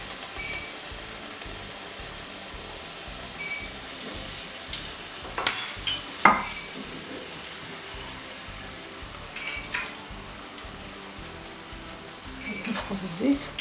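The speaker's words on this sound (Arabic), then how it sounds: "دابا غنبدا نقلي" Grawch pastries fry in hot oil with a quiet, steady crackling bubble, broken by a couple of sharper pan or utensil knocks midway. A voice may be heard faintly at times.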